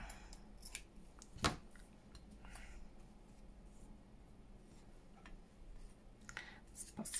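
Scissors snipping fabric while making fabric paperclips, with one sharp close cut standing out among scattered quieter clicks and rustles of craft work.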